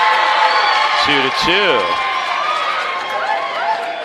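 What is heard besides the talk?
volleyball crowd cheering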